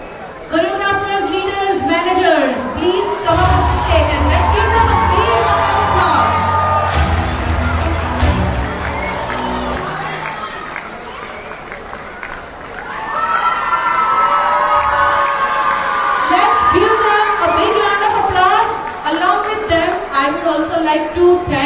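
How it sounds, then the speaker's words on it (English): Crowd at a community celebration stage event cheers and claps loudly, with children shouting and chatter mixed in, a steady roar lasting throughout with music-like tones and voices over it. "let's give them a big applause"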